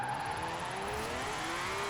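A BMW drift build's engine in Forza Horizon 4 drones at moderate revs under a steady wheelspin hiss, its pitch wavering and climbing slightly, fairly faint.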